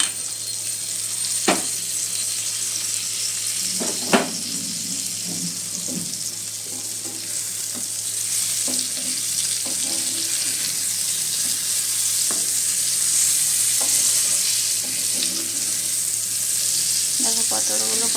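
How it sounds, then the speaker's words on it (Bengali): Continuous bright sizzling of pointed gourd frying in a pan, with scattered spoon taps and stirring knocks throughout. "পটলটাকে এক পিঠ ভাজা হওয়ার জন্য ঢাকা দিয়ে দিয়েছি"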